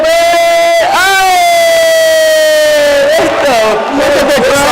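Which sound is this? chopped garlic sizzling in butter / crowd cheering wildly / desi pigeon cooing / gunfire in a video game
crowd cheering wildly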